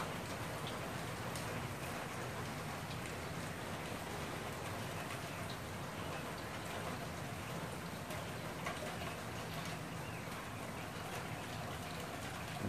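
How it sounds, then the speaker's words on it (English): Steady rain pours down during a thunderstorm with a funnel cloud overhead, a continuous dense hiss of drops striking surfaces close by, unbroken and fairly loud throughout with no voices. "The rain has slowed down some."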